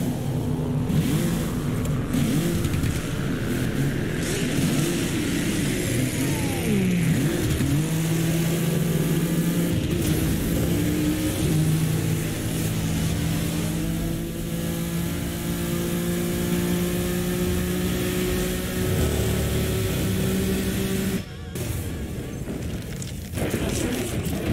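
A car engine from the racing video game Burnout Paradise Remastered hums and revs continuously as the vehicle drives, with rising and falling pitch sweeps and a brief dip near the end.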